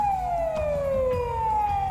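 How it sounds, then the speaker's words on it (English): Police patrol car siren in a video game, a loud steady wailing tone sliding slowly downward, continuous and close throughout with no talking. "I look up to see the red lights of a patrol car coming this way."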